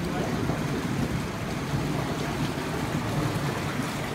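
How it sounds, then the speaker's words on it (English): Water rushes turbulently through a laboratory flume where a hydraulic jump churns, a dense, steady roaring wash heard up close with no break. "That's the hydraulic jump."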